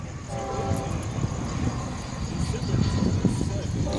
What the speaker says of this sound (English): FEC train number 218.